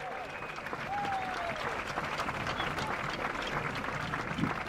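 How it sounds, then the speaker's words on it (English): An audience applauds a university drumline at an end-of-camp performance, with steady, dense clapping that holds throughout at moderate volume, plus a few whistles and scattered voices mixed in. "Would we please give a huge round of applause to the 2025 Boiler Beach Drumline?"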